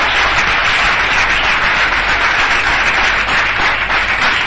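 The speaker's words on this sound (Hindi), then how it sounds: "जोरदार तालियों से स्वागत करेंगे" Loud, dense applause from an audience welcoming participants at a seminar, a continuous even roar of many hands clapping that holds steady from start to finish.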